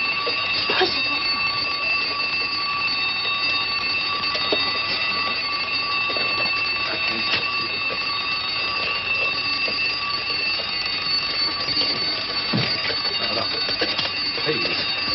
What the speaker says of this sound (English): I'll set the alarm.